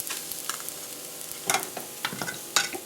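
Maida flour is stirred into stock and drippings in a pan over a slow fire: soft sizzling under a spoon's scraping strokes and a few sharper clicks against the pan, close and without talk.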